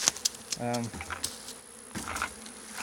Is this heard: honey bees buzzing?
yes